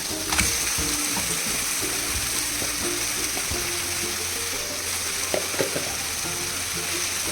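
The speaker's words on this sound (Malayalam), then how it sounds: "നമുക്ക് ചിക്കൻ ഇടാം." Chicken frying in a pan with tomato juice for kanthari chicken biryani gives off a steady, close sizzle, broken by occasional clicks and scrapes of stirring. No one speaks.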